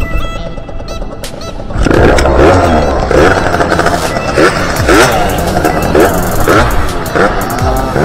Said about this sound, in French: La petite moto de Jarpet, les gars.